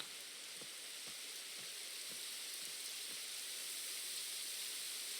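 Steady rain in a video game hisses softly and evenly, with a few faint low knocks now and then underneath.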